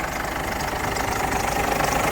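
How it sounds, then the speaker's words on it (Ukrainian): A Ford Ranger three-litre engine runs at a steady idle with a dense, loud mechanical rumble and a faint ticking from a roller, with no voices. "Мотор сухой. Что-то подпакивает какой-то ролик явно."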